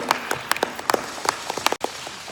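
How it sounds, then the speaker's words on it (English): Scattered clapping from a small crowd at an arts advocacy panel discussion, light and uneven, with a brief pause near the end before it resumes. "Can we get a round of applause?"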